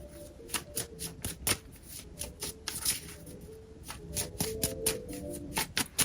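Oracle cards shuffled by hand, a close run of crisp riffling slaps and flutters in uneven bursts, with no talking over them.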